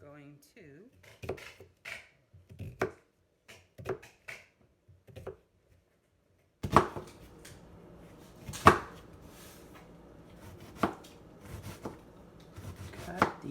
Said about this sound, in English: cut these onions up.